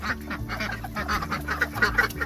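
Ducks quack repeatedly in an irregular chorus, moderately loud and fairly close, with several birds calling over one another.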